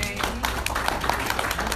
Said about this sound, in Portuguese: Quantos podem dar um aplauso ao Senhor?